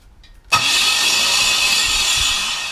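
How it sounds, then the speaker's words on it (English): A harsh metallic scraping grind cuts in suddenly and keeps going, loud and close, as the starter motor on a 5.3 LS engine drags against metal. "That metal scrapey sound."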